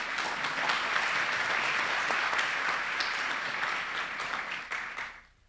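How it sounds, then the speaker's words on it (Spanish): An audience claps in welcome for three guests at a talk on community narratives, culture, art and journalism: sustained, even applause that holds for about five seconds, then thins out and fades. "Quiero darle la bienvenida, un aplauso a estos 3 invitados"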